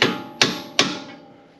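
Three sharp, evenly spaced taps seat an aftermarket FEN Fabrication vertical link on a 2020-2026 Ford Explorer ST, each strike loud and close with a ringing metallic tail that fades away, and no talking.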